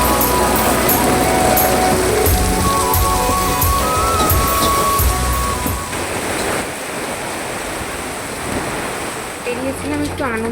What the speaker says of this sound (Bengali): এমন বৃষ্টি পড়ছে